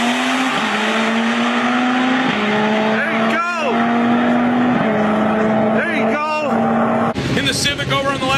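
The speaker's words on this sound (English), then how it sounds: "A whole lot of tire chatter out of the Camaro, but he hangs on to it." Camaro drag racing on a strip with heavy tire chatter, a loud steady engine drone shifting pitch, with rising passing whines of other cars and a commentator talking over it.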